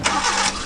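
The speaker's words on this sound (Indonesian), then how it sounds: "Aku mau nyalain mobil dulu." A car engine cranks and catches in a brief, loud burst of steady mid-range engine roar, close by, with no talking.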